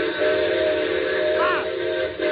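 A steam train whistle blows loud and close in one sustained, steady tone that bends briefly near the end, sounded as a warning for a car stuck on a grade crossing ahead.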